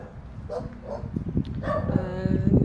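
Small dogs in an animal shelter bark and yip in short bursts, several close by and overlapping, the barking growing busier and louder toward the end.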